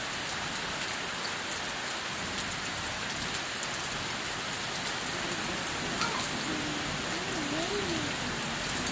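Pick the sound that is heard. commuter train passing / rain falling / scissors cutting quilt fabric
rain falling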